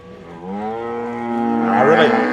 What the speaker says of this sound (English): I really like this set of cows.